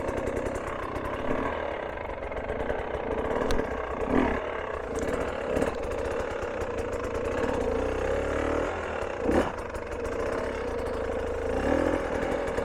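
A hard enduro dirt bike engine revs and labors while climbing a technical line, its throttle rising and falling in uneven surges with short sharper blips, close and steady for the whole stretch, with no talking.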